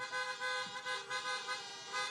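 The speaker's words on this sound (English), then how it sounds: "You got that horn honking good." Car horns honk repeatedly at an election rally in Miami, Florida, over a dense, steady roar of crowd or traffic noise, several blasts overlapping at moderate loudness.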